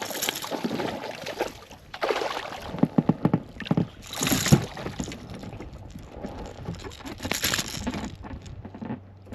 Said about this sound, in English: So I'm paddling from this small island to the shore on the eastern side of Nordic Lake.